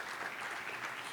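Brief, steady applause from an audience at a chamber of commerce annual awards breakfast, a dense, even patter of many hands clapping at moderate distance.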